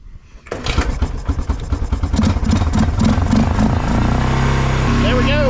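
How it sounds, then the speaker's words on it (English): A 1996 Kawasaki Bayou 300 4x4 ATV that had sat in a barn cranks and fires up after a solenoid replacement, then settles into a steady, loud, close running idle with clattering engine pulses. "The Kawasaki Bayou is back alive. I'm gonna let it run for a second, heat up"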